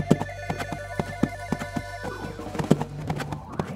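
A horse being ridden in Roblox Brookhaven gives a run of hoof clops with a whinny-like tone, close and clear, evenly paced, then looser toward the end.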